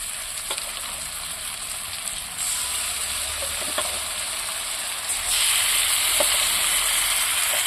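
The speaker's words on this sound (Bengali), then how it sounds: "এবার আমি তেলের মধ্যে মাংসটাকে নেড়ে করে নিচ্ছি" Marinated chicken meat stirred and fried in hot oil with lightly fried onions, a loud dense sizzle that swells in steps, with occasional faint scrapes of stirring, close up and without talk.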